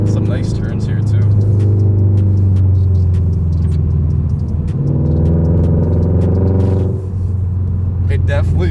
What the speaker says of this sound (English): It definitely sounds like a Subaru, but it's not too bad.